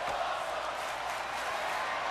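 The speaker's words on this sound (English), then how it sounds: "And you hear the crowd here in Seattle." Dense arena crowd roar from a WWE 2K22 wrestling match set in Seattle, a steady loud wash of cheering and shouting with no breaks, filling the whole stretch.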